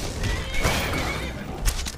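Horse whinnying in Skyrim, a loud, rising neigh amid busy game sound, with low thuds and crashes from a fight against a troll nearby; no talking.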